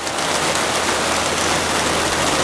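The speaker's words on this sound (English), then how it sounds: "then literally starts raining" Steady, dense outdoor rain falling on surfaces makes a loud, continuous hiss up close, with no pauses or voices.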